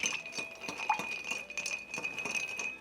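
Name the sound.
stirring a cocktail with ice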